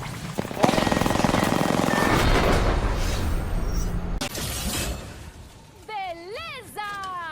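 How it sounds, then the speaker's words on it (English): An enemy shield shattering in Apex Legends amid loud sustained gunfire, a crackling break followed by a burst, then warbling ability sounds and a brief voice near the end. "Enemy shield broken"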